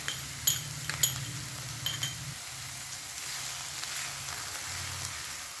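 A spoon stirs a spiced snack mixture with turmeric, sugar and chopped coriander in a frying pan, making repeated metallic clinks and scrapes over a low, continuous sizzle.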